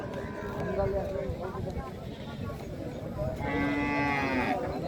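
Cows, Australian breed, moo loudly nearby, tied in rows, with a long low call rising near the end, while people talk over a busy outdoor background.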